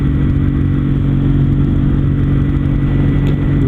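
Kawasaki W800 cafe racer engine while riding at about 3000 RPM and 60 km/h: a loud, steady, even drone with smooth low rumble and wind noise throughout, no talking.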